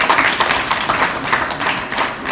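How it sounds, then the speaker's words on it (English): An audience at a health innovation award session applauds a jury member, with steady, loud, close clapping from many hands that runs throughout. "a huge round of applause."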